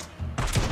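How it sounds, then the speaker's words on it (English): Shotgun fire in the video game Days Gone, a quick burst of blasts erupting loudly after a brief lull of background game noise, all within under a second. "now you're just going to go in with a shotgun and blow them away"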